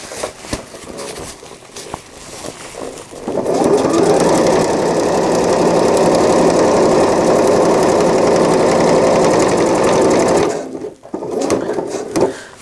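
A sewing machine stitches the seam of an AIO cloth diaper, running steadily and loud for about seven seconds after a few short starts, then stopping and briefly starting again near the end.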